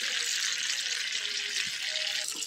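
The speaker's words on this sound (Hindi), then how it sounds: "घी गरम होने के बाद में ये लौकी डाल दी है, और लौकी को कम से कम 10-15 मिनट के लिए घी में ही फ्राई करेंगे" Bottle gourd frying in hot ghee for a Rajasthani halwa, a dense steady sizzle close up, with faint stirring and a few soft ringing tones, no speech.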